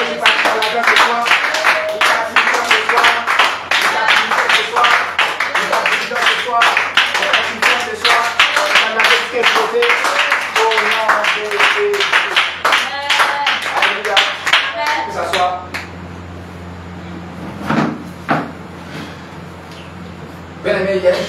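A church congregation at an evening worship service claps loudly in a steady, rhythmic beat for about fifteen seconds, then the clapping thins to scattered claps, with voices heard over it.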